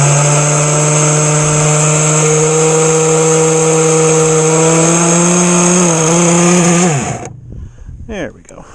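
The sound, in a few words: Blazer Marine boat outboard engine revving after flooding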